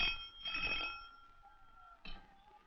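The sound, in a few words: telephone ringing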